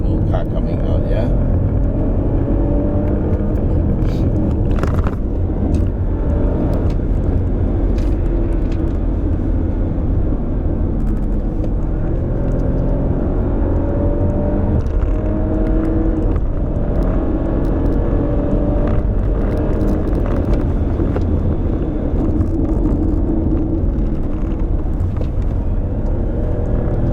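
A 2019 Audi Q8 rolls slowly along a road toward a junction, its steady low engine and tyre rumble continuous throughout, with a voice talking over it much of the time.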